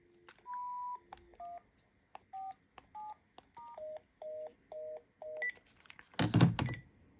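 Touch-tone keypad beeps from a Panasonic KX-TG994SK cordless handset, a string of short dual-tone presses in an uneven rhythm, then a brief loud clatter of handling at the end.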